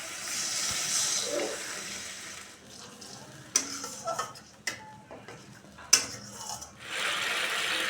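Water is poured into a pan of cooked-down spices for a Bengali rohu fish curry with poppy seed paste. It gives a loud, sustained hiss and splash at the start and again near the end, with scrapes and clinks of a utensil in between.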